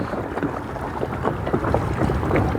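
Small boat cruising slowly on open water under an ePropulsion Spirit 1.0 Plus electric outboard at low power, heard as steady water rush and wind buffeting with no distinct motor tone.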